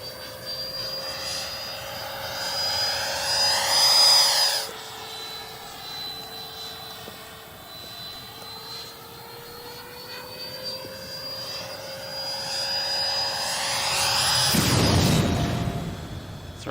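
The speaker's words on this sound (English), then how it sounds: "Very nice showing of the plane." Radio-controlled model F-35 jet plane flying overhead, a steady turbine-like whine that swells loudly as it passes near at the start and again at the end, fading between passes, with no talk.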